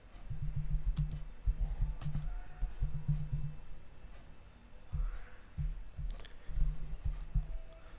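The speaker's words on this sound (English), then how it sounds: "let's type here" Steady clicking of keys on a computer keyboard, typed in quick bursts with short pauses, close and moderately loud with no talking.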